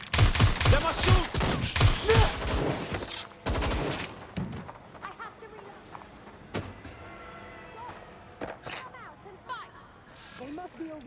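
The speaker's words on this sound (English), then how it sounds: "I'm getting shot at here!" Gunfire in Watch Dogs: Legion on Xbox One: a rapid run of loud, close shots over the first few seconds, then sparser isolated cracks and mechanical noises, with voices talking at points.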